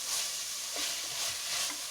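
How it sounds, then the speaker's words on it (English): Ginger and garlic frying in a pan, a soft, steady sizzle heard up close with faint stirring scrapes, fairly quiet and continuous, no voices. "it's nice to, like fry the ginger garlic and enjoy the aroma"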